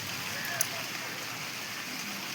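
Steady rain falls in a village setting, a dense even hiss that holds unchanged throughout, with one brief sharp tick standing out early on.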